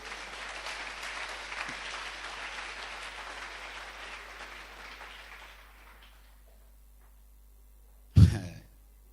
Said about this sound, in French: acclamez leur sincérité